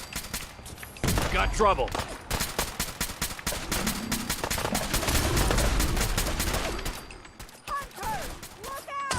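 Gunfire in the video game Fallout 4: Far Harbor, dense rapid volleys of shots crackling almost nonstop during a foggy fight, loud and close, with shouted voices cutting in over the battle.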